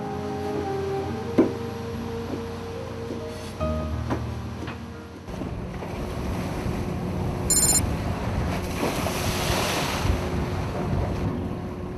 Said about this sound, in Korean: 파도와 바람은 여전히 강하게 분다